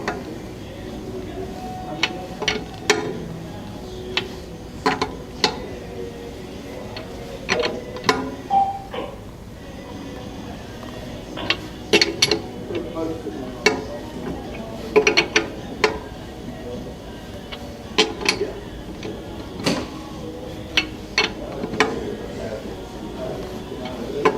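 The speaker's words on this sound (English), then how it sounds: "tighten your lug nuts with your tire tool" A tire tool tightens the lug nuts on a 2013 Toyota Corolla with a series of sharp metallic clicks and clanks, spread irregularly over a steady background hum.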